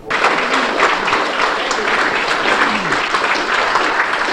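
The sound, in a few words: audience applauding at a railroad convention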